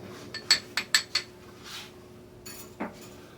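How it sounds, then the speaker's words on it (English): An egg is beaten with vinegar in a bowl: a quick run of four or five sharp clinks of a utensil against the bowl, then quieter scraping and a single later tap, faint and close. "Now we just kind of beat that egg."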